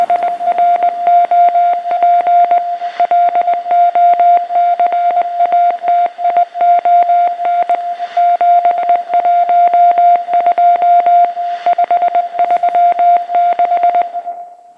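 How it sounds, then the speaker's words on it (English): A Morse code radio transmission in a video game: a steady single-pitch tone keyed in quick dots and dashes, loud and unbroken for about fourteen seconds, alone. "Transmission was in Morse code."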